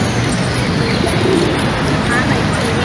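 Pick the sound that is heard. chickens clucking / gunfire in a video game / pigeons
pigeons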